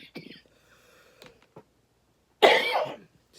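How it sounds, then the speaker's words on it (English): A man coughs, with a short burst near the start, a few faint throat sounds, then a loud, harsh, close cough lasting about half a second before quiet returns. "I'm going to go cough some more"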